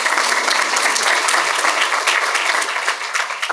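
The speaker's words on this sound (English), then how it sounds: "you guys can applaud for that" A crowd claps steadily, a dense wash of applause that stays loud throughout before easing slightly toward the end.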